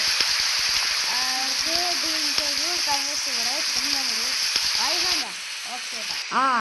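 Steady, hissing rain falls in an open-world Indian Theft Auto game, a constant broadband wash that stays loud under a person's talk and thins out near the end.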